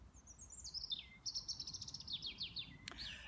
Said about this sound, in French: L'oiseau qui est sur la plus haute branche de l'arbre est en train de chanter une jolie mélodie.